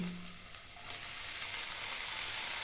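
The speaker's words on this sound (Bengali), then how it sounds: "এরপর এর মধ্যে আমি শাকটা দিয়ে দিচ্ছি" Spinach dropped into a hot pan while cooking Bengali-style shukto gives a steady, close, continuous hiss of frying, loud and unbroken, with no talking.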